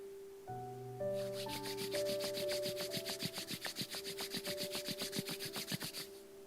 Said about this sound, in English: Start rubbing your palms against each other to create some warmth.